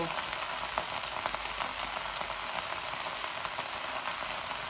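Gourd shoots and leaves fry in mustard oil with a steady, close crackling sizzle that holds evenly throughout, with no voices.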